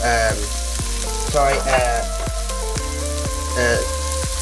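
Dried thyme, rosemary and chili flakes sizzle loudly in a hot pan, a dense steady frying hiss with scattered pops and occasional stirring scrapes, close and continuous throughout.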